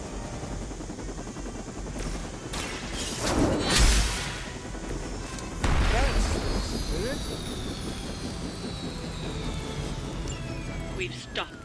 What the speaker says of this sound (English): The helicopter's about to leave. Time is running out. Stop that helicopter.